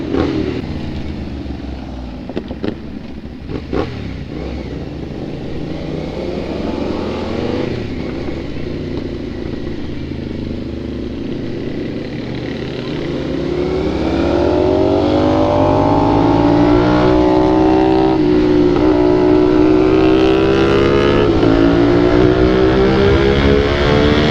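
A group of big bikes at a midnight gathering rev and ride past, deep engine drones rising and swelling in pitch, growing louder and steadier in the second half with clattering and throttle blips up close.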